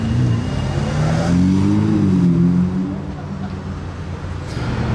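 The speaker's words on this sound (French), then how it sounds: "Une autre Ferrari 599 GTB Fiorano." A Ferrari 599 GTB Fiorano sports car drives past on a street in Monaco, its engine note rising and falling as it passes close by and loud, with traffic around it.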